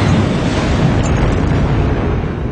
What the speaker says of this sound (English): soon turned into a series of eruptions, exploding with the full force of a supervolcano